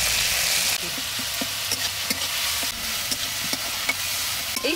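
Grated ginger dropped into hot oil while cooking Bengali-style pabda fish. A loud, dense, continuous sizzle fills the clip, crossed by scattered light spatula clicks and scrapes against the pan, and nobody speaks.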